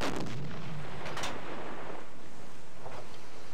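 Loud booming submarine deck gun blasts in the video game Silent Hunter 5, several heavy shots in quick succession with a rumbling tail, saturated and close.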